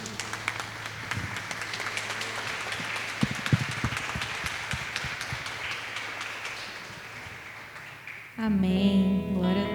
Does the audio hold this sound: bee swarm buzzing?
no